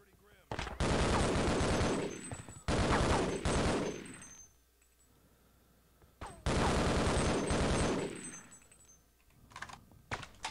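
Gunfire in Half-Life: Opposing Force comes in several loud bursts of a few seconds each, separated by quieter gaps, with keyboard clicks and some talk between.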